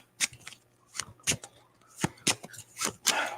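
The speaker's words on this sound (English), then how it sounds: "I think we've shuffled enough." Tarot cards are shuffled in a series of close, crisp riffling bursts, about a dozen quick flutters spaced irregularly with brief quiet gaps between them.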